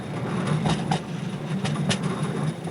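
A White Pass and Yukon Route Railway train on the run from Skagway to Canada, a steady rolling rumble with rhythmic clickety-clack knocks from the wheels at moderate distance.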